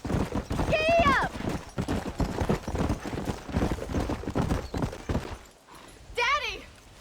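Horse hooves clip-clop at a gallop in the Western game Red Dead Redemption, a steady drumming rhythm running under ongoing character dialogue, with brief whistling music flourishes.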